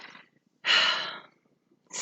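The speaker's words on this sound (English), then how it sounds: "she's laying under the table now, heavy breathing" A dog lying under a table breathes heavily: two or three separate loud, breathy huffs with short silences between them, close by and alone.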